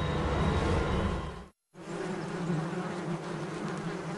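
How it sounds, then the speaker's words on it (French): A swarm of carnivorous wasps buzzes in a dense, continuous drone, briefly cut to silence midway before the close, loud hum resumes alone. "Des escadrons de guêpes carnivores prennent leur envol."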